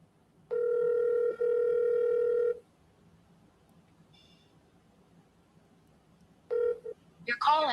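A phone call to a real estate lead rings out with one long steady ringback tone, a quiet gap, then another tone starting before an automated voice begins.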